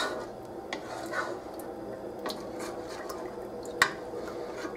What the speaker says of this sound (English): Stir often until mixture reaches a bare simmer.